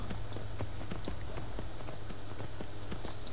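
Horse hooves clip-clop in a steady walking rhythm in the Skyrim video game, loud and close over a constant ambient background.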